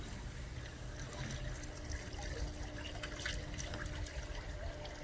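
Steady rushing and trickling water flowing through swimming pool lines during pool closing, continuous and fairly close, with faint dripping detail and no voices.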